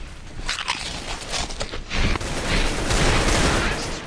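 Pringles Extreme Dill Pickle chips are crunched loudly and up close, a dense, noisy run of crackling bites that builds over several seconds with no voices.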